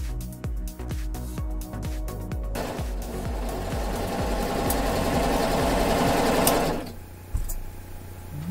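A Triumph coverhem sewing machine stitches fold-over binding onto a leopard-print top, starting with a series of quick separate needle strokes that merge into a fast continuous whir, then stopping abruptly with a few faint clicks.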